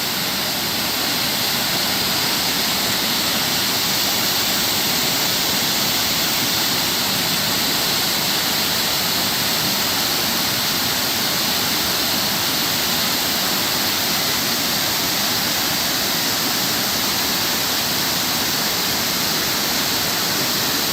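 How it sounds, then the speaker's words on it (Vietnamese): Da Han waterfall in Dong Nai roars in a dense, unbroken rush of falling water, loud and close, holding steady for the full twenty seconds with no voices. "Ở đây trên đỉnh ngọn thác á."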